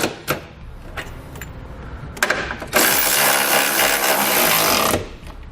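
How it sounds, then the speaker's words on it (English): A 17mm socket on a ratchet or power tool snugs up bolts on an etrailer trailer hitch receiver under a 2013 Toyota Highlander: a few scattered clicks, then a loud, close, continuous buzzing whir for about two seconds that stops abruptly. "I'm going to come back with the 17mm socket and snug up all my hardware."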